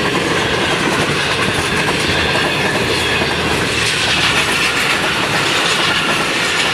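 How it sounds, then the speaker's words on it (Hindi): Tezgam Express hauled by a GU40 locomotive, number 9044, speeds through Moradabad railway station in rainy weather, a loud, steady rush with rhythmic clickety-clack of wheels over rail joints throughout. "एट डाउन तेजगाम एक्सप्रेस है, GU40 लोकोमोटिव 9044। बहुत ही तेज़ रफ्तार से जा रही है भाई,"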